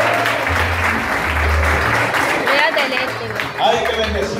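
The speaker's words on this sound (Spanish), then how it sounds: "¿Cuántos aplauden a Dios?" A church congregation applauding to praise God during a Spanish-language service: continuous dense clapping throughout, with a preacher's voice and low musical tones sounding over it.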